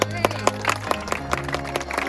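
A small group claps briskly and somewhat unevenly, sharp hand claps repeating quickly close by.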